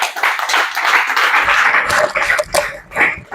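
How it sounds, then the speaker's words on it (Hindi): Meeting audience at a direct-selling event claps for a speaker, dense continuous applause over about three seconds with a few sharper claps near the end, fairly loud and close. "सर के लिए एक बार जबरदस्त ताली चाहिए।"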